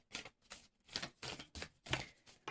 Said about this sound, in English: I'm going to try to give them a quick shuffle real quick